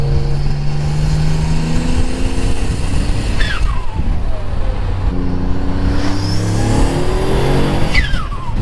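A fully built Mitsubishi 3000GT accelerates hard and loud, its engine note climbing steeply and dropping at each of several gear changes in quick succession.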